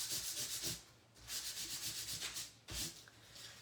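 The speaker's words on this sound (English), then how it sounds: "all I'm doing is sanding" Steady back-and-forth scratchy rasping of sandpaper rubbed by hand, in quick rhythmic strokes with two brief pauses, close and fairly loud.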